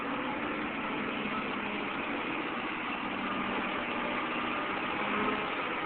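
An excavator's diesel engine drones at a steady, continuous rumble, moderately loud with broadband mechanical noise and no clear speech.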